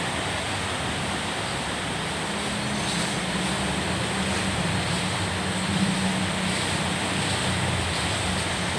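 Steady rain falls around a house, a dense, even hiss that holds constant and fairly loud throughout with no pauses and no voices.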